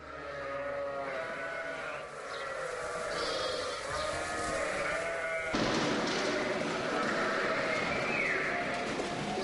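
Castilian breed sheep bleat near a cheese dairy in Morales del Vino, Zamora, with several overlapping calls over a steady farmyard hum that grows busier and louder in the second half.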